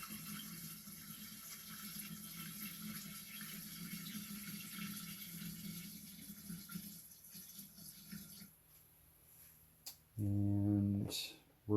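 Store-bought spring water from a gallon jug being poured in, a steady close splashing stream that stops, followed by short loud bursts of knocking and handling.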